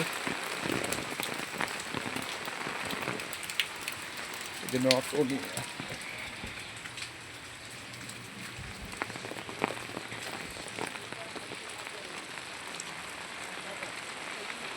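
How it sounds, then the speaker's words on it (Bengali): Heavy rain pouring steadily outdoors during an unseasonal downpour with water pooling, a dense constant patter and hiss across the whole stretch, with occasional brief knocks and sharper drops standing out. "বৃষ্টি চলছে বেশ ভালোই বৃষ্টি হচ্ছে"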